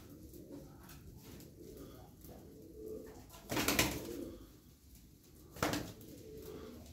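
Perdeli Iraqi pigeons give faint, soft coos over quiet background noise, with two brief louder bursts of sound standing out partway through.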